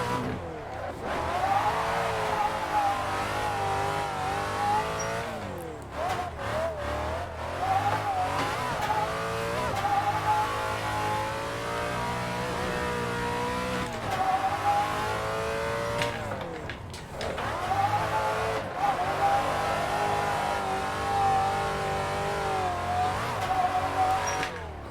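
A Rocket Bunny widebody Nissan 350Z with a V8 swap, set up as a drift car, roars at sustained high revs through repeated lift-offs and re-accelerations, with tires squealing under the loud, continuous engine note.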